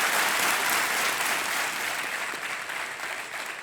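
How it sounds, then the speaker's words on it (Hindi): Studio audience applause on the KBC television game show, dense and loud clapping that starts full and tapers slightly over nearly four seconds. "तालियां बज जाएं"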